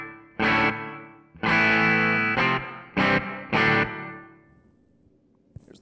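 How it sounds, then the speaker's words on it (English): Distorted electric guitar chords played through a TC Electronic Hall of Fame reverb pedal on its room setting, several loud strummed bursts with a short ambient tail fading into near silence. "This is the room."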